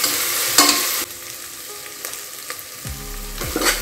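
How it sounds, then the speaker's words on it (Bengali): Garlic sizzles and fries in a pan for a Punjabi-style rajma dish, with a steady hiss broken by several scraping stirs of a spatula, heard close up with no talking. "রসুনটাকে একটু ভেজে নিচ্ছি"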